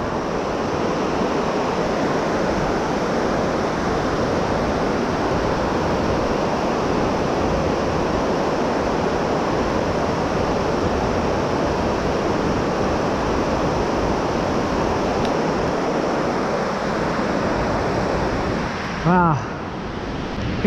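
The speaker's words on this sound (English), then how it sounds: "Here's a much better view of these waterfalls." Steady, dense rush of water from waterfalls seen from beside a river bridge, a loud unbroken roar with wind buffeting, ending with a brief voice.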